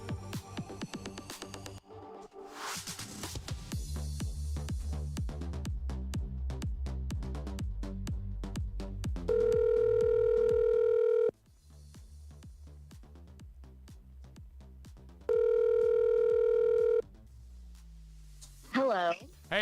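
Telephone dial tone and keypad dialing for a call, with steady beeping tones and short bursts under music and voices in a lively room; two long, loud tone blocks stand out midway.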